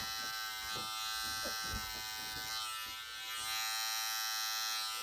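Electric hair clippers hum steadily at close range during a mid taper haircut on short hair, a continuous buzz with faint shifts as the blades move through the hair, with no speech.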